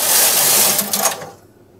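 A knitting machine carriage sweeps across the needle bed, knitting stitches for a mock cable pattern in a loud, rushing whir that lasts about a second before fading away.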